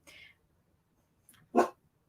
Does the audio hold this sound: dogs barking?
yes